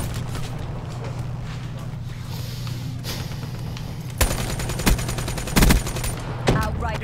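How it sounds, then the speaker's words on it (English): Gunfire from a first-person shooter video game, with sharp blasts at intervals over a steady, dense game soundscape, loud and close. "I hate the shotgun!"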